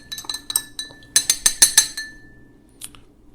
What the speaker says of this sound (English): Now, I'm going to stir this until the sugar dissolves.